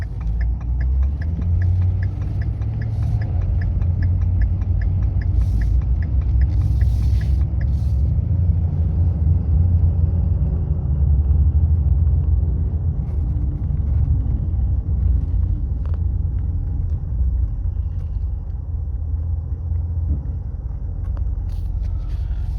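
A 2011 Ford F250 pickup with a six-speed transmission drives along, its steady close engine rumble filling the cabin, with slight changes in tone as it moves through the gears.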